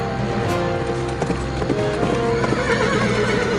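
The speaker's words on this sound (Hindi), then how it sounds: "रुक जा मेरा घोड़ा, मुझे भी बैठा ले।" A horse gallops with steady, loud clip-clop hoofbeats and neighs, filling the short stretch without any talk.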